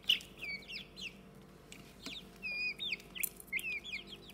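Growing chicks in a brooder, changing from yellow-orange to reddish brown, giving repeated high, sharp peeps and chirps in irregular bursts over a faint background, close by, with no talking.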